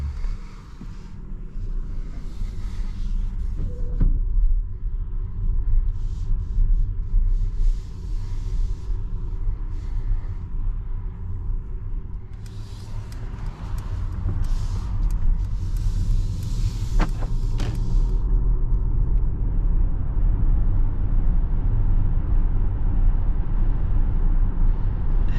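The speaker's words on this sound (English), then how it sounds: "driving this 2022 Mercedes-Benz EQS, this thing seriously drives so smooth" Low steady road rumble and wind inside a 2022 Mercedes-Benz EQS electric luxury car on a test drive, a smooth continuous hum that grows slightly louder toward the end, with no talking.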